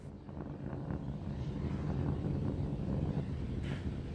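Raptor rocket engines of SpaceX Starship SN15 in flight during ascent, a steady broadband roar that holds at even strength throughout, distant and without speech.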